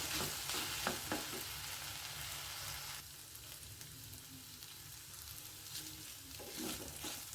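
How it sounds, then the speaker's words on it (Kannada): Salted okra (bendekai) fries in oil for a traditional festive meal, a soft, continuous sizzle with a few faint stirring scrapes and taps, quiet and close, with no talk. "ಬೆಂಡೆಕಾಯಿ ಎಲ್ಲ ಎಷ್ಟು ಚೆನ್ನಾಗಿ ಫ್ರೈ ಆಗಿದೆ"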